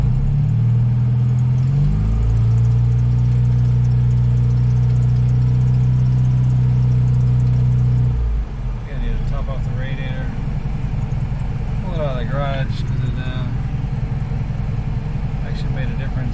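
A 1970 Datsun 521 truck engine idles loud and close in a steady low rumble for about eight seconds, then drops to a softer idle while someone talks over it.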